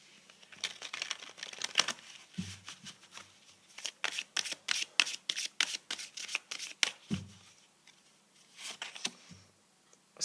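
A deck of tarot cards is shuffled by hand over about ten seconds, with a quiet, close, rapid patter of card slaps and flicks and a few soft thumps as the deck is squared.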